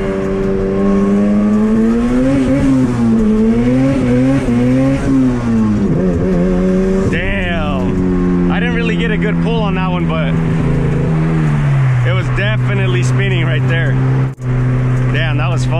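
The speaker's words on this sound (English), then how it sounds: "So I'm gonna try doing a first gear pull." A boosted Honda CRX running E85 makes a hard first-gear pull, its engine roaring loudly and close as revs climb and waver, with turbo whistles and sharp pops from about halfway, and a voice partly over it.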